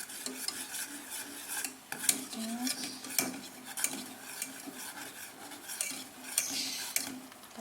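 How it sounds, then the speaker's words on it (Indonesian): Butter melts in a pan while a utensil stirs continuously, scraping and clinking against the metal with a soft sizzling hiss underneath, steady and close. "Kita tunggu sampai cair menteganya. Kita aduk terus."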